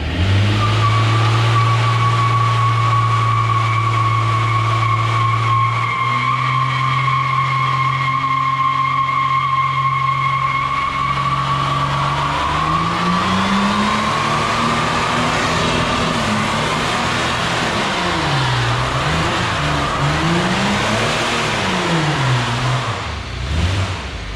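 A VN Commodore fitted with a Torana engine idles loudly and then revs hard, the pitch swooping up and down over a continuous harsh tyre-spinning roar during a wheelspin. The sound stays close and sustained throughout.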